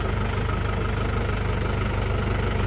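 A diesel tractor engine idles nearby with a steady, low, rhythmic chug and no talking.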